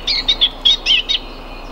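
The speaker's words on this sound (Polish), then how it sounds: "Masa ptaków tutaj chodzi koło mnie." Many birds chirping in a forest by a stream: a close, bright run of about half a dozen quick chirps in uneven bursts, heard alone over soft background hiss.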